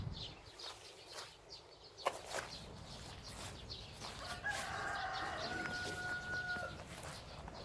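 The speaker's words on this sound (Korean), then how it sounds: "닭들이 밤낮을 구별 못하고 저렇게 울어대네요" A rooster crows in a rural vegetable garden planted with wild greens, a drawn-out call heard at a moderate distance over outdoor ambience and light background noise.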